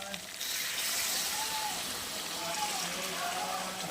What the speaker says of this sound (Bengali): এখন চিকেনটা আমাদের কষানো হয়ে গেছে, তাতে দিয়ে দেব ঝোল।